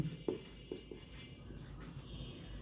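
A pen scratches across paper while a physics exam problem is worked out, faint close strokes with a few soft taps over a low room hum.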